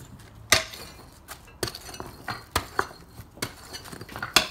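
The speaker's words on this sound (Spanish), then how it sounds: "a remover los adoquines del suelo." Pavers being pried up and removed from the ground ring out as sharp metallic clinks and knocks, about eight irregular strikes close by with no one talking.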